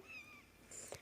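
A cartoon cat meows in the Toca Life World video game, one short, faint, high mew followed by a brief click, with no talking.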